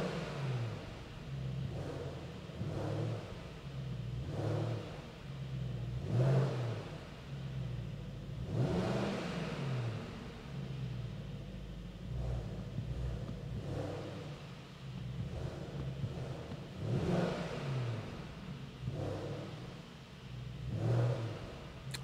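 A Mercedes-Maybach GLS800 Brabus engine in sport mode revs repeatedly, each blip rising and falling in a low, deep rumble, about ten rev pulses in a steady rhythm, heard alone.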